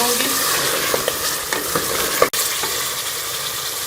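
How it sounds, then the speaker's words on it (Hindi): Balti gosht masala with chopped green coriander fries loudly in a pan, giving a dense, continuous sizzle with stirring scrapes and one sharp knock near the middle. "थोड़ा सा कटा हुआ हरा धनिया को डाल के मैं थोड़ी 1 से 2 मिनट इसको भून लूँगी।"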